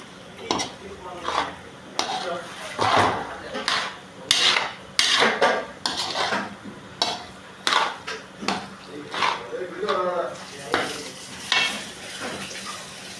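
A spoon stirs and breaks up soaked bread in a pan for bread halwa, giving repeated scraping clinks and knocks in an uneven rhythm, close by, with someone talking intermittently.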